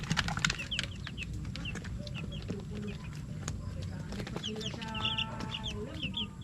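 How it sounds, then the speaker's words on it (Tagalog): Chickens clucking in a pen beside a coop built for Peking ducks, several birds producing short repeated clucks near and far over steady background noise, with people talking quietly. "Yung mga manok."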